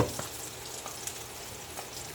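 Adobong sitaw sizzles and crackles quietly in a pan, a steady soft frying hiss with faint pops.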